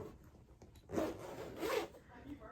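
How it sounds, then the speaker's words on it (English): Two quick rasping zipper pulls on a bag, close and fairly quiet, with a brief pause between them. "I think I broke the zipper though"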